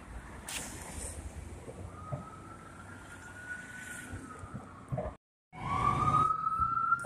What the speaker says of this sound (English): The ambulance.